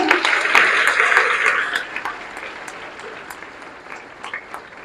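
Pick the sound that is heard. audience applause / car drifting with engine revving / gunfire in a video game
audience applause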